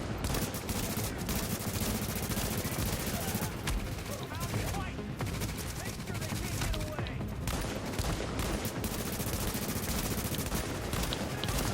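Dense, continuous automatic gunfire from a primary weapon in The Division, loud rapid bursts layered with other shots throughout, with a voice faintly mixed under the firing.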